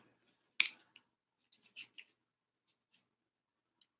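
Scissors snipping paper for a DIY planner insert: one crisp cut followed by a few quieter, scattered snips and small paper rustles in an otherwise quiet room.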